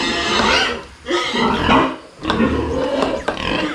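Pregnant sows on a pig farm give loud, close, rough grunts and squeals in several bursts, with short pauses between them.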